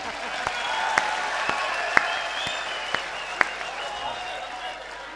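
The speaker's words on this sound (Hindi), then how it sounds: "गीत खत्म हो गया, तालियां बजाइए।" An audience at a Hindi humorous poetry gathering claps after a song, a sparse, scattered applause with a few sharp individual claps standing out over low room noise.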